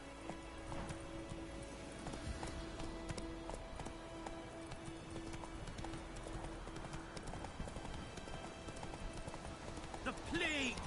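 Roach, the horse in the video game The Witcher 3, gallops with a steady, rapid clip-clop of hooves that continues throughout, with game ambience beneath.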